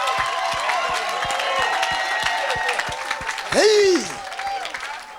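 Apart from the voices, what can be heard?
church congregation clapping and cheering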